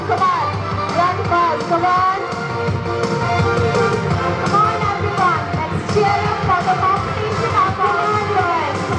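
Crowd noise and cheering at a school sports day at Notre Dame School, Gumla, as children run a race; a dense, continuous wash of voices and shouts with no pauses, loud and close throughout.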